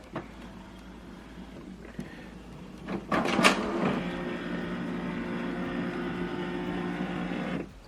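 HP DeskJet 4200e printer starting up after power-on: a couple of soft clicks and a clunk, then a steady mechanical whirring hum that runs for several seconds before cutting off.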